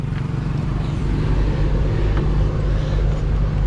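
A car idles with a loud exhaust, a deep, steady throbbing rumble close by that holds at an even level with slight pulsing.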